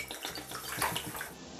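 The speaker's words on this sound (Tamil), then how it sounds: "இப்போ இது முழுகிற அளவு நல்லா தண்ணி ஊற்றிக்கலாம்." Water pours into a vessel of washed rice being soaked for idli batter, a short, close splashing and gurgling rush.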